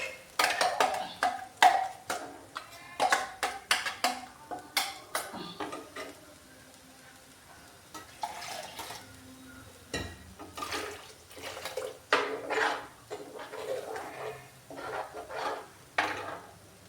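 Ground coconut paste is poured from a mixer jar into a clay pot and stirred. Irregular clinks and scrapes of a utensil against the pot mix with soft wet sloshing and pauses, close and fairly quiet, with no talk.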